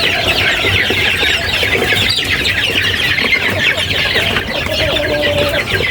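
Many chicks cluck and chatter continuously close by while feeding, a busy flock murmuring with occasional sharper calls rising above the din.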